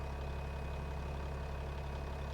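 Tractor engine idling steadily inside a farming video game, a low continuous rumble with a constant drone, unbroken and even from start to finish with no talk.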